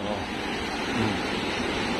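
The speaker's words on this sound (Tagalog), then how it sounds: "laki po ng volume ng tubig" Broad, steady rushing of heavy river flood water roars without pause, with a person briefly exclaiming over the noise.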